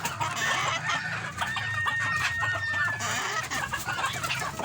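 Several chickens cluck and crow close by in a coop, with a sustained, busy murmur of fowl and occasional sharper calls standing out above it.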